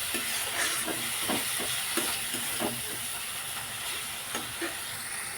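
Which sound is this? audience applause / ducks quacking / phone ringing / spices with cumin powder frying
spices with cumin powder frying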